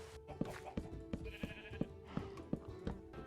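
Goat in Minecraft bleating in a quick series of short, sharp, fairly faint cries with steady ambient background, no talk.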